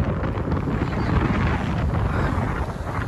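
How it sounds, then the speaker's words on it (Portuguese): Strong wind buffets the microphone at a beach in Cabo Frio, Brazil, a steady loud roar and rumble with no talking. "Tá ventando pra caralho."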